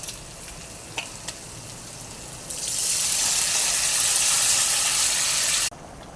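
Tamarind juice hits a hot pan of fried onions and green chillies, setting off a sudden loud hiss of sizzling that holds steady for about three seconds and then cuts off abruptly.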